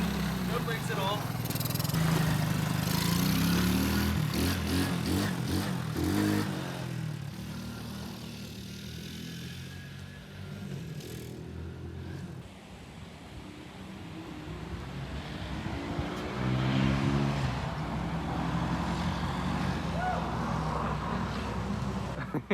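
The small engine of a cheap $50 quad ATV runs with a rough, buzzing drone that rises and falls in revs, with people talking and shouting over it.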